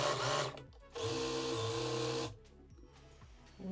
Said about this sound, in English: Now we are going to sew with 1 centimeter seam, and we're gonna finish the raw edges.